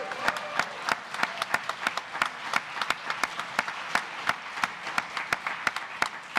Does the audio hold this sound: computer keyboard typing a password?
no